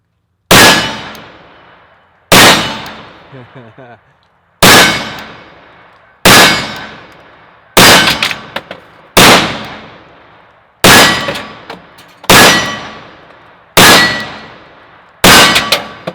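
A 10mm Tanfoglio Witness Elite Match pistol firing Underwood rounds, ten loud sharp shots spaced about one and a half seconds apart, each with a ringing decay, close and with no talk.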